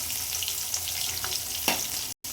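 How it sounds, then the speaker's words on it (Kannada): Ginger and green chillies frying in hot oil for South Indian kara pongal, a steady close sizzle with a faint stir partway through, no voices. "ಇವಾಗ ಚೆನ್ನಾಗಿ ಫ್ರೈ ಮಾಡ್ಕೋಬೇಕು."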